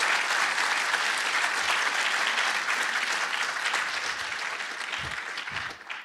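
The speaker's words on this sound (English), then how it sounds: "Please give him another round of applause." Applause from a conference audience for a keynote by the Raspberry Pi Foundation's founder, a dense, steady round of clapping that gradually tapers off toward the end.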